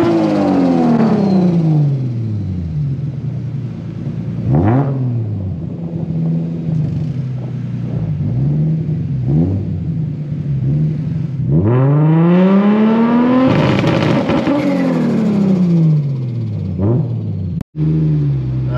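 A Nissan Skyline R34 GT-R's RB26 engine revs repeatedly, rising and falling through several loud sweeping blips over a steady rumbling idle, captured up close with no talk.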